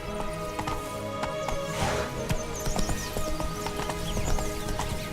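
Hooves of Roach, a horse in The Witcher 3 video game, clip-clop in a steady walking rhythm up close, with a brief whinny-like swell and busy game ambience behind.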